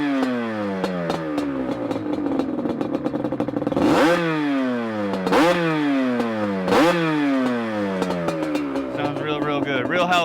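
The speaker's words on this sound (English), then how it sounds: "I'm gonna start it so that way you guys can get a nice, good visual and audio of this exhaust system." Yamaha Banshee ATV with an aftermarket exhaust, imported 2008 model, firing up and revving hard in repeated sharp throttle bursts, loud and close, crackling two-stroke tone rising and falling several times.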